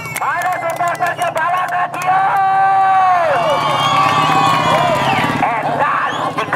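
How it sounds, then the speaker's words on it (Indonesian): Supporters at a village RT Cup football group match cheer loudly for Arsya FC, crowd voices rising under a loud amplified speaker, with scattered claps early on. "saya minta sorak-sorai mana suaranya pendukung bagi Arsa. Mana tepuk tangannya untuk Arsa?"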